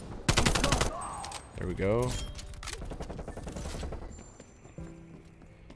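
AK74u gunfire in Call of Duty: Black Ops Cold War: a rapid automatic burst cracks out up front, followed by scattered shots and game effects while someone talks.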